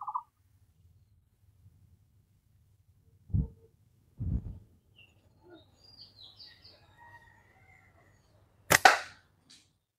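Slingshot shot striking a target outdoors: a sharp snap near the middle, then a loud crack of impact near the end, with faint birdsong and quiet ambience between.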